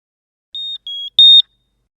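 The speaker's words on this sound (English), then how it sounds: "All the smoke detectors now start flashing green and beep 3 times in parallel" Three clear electronic beeps in quick succession, the last one louder, from a Genius Plus X radio-controlled smoke detector during setup in an otherwise silent space.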